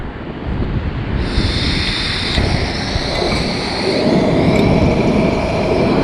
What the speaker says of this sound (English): Even though it's a little bit windy